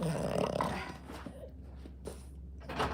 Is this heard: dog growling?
yes